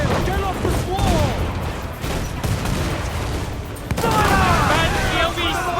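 Ship cannons fire a rolling broadside in Assassin's Creed 4 Black Flag, booming volleys under shouting crew voices and steady sea and wind noise, with a louder surge near the end.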